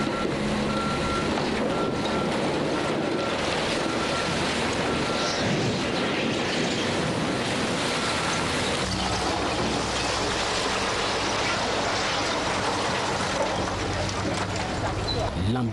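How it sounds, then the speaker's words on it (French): Trucks at a construction site begin dumping rock, with a steady reversing beep over heavy engine rumble and a rushing, gravelly roar. The scene is loud and continuous, with a crowd murmuring beneath. "donner l'ordre pour que les camions commencent à déverser la roche ici et fermer définitivement"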